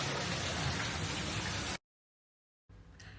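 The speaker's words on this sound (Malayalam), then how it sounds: "ശരിക്കും നമുക്കൊരു മഴ പെയ്യുന്ന ഫീലാണ്" Steady, dense rain patter hisses evenly, cuts out for a moment, then resumes more softly.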